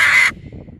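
A blue and gold macaw squawks at birds outside: a single loud, harsh, raspy squawk lasting about a third of a second, followed by quiet room background.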